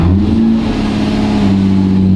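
A Lamborghini Murcielago engine, under rebuild after being abandoned, runs with a steady, loud low drone and slight pitch shifts while the gears are tested, continuous and close with no talk.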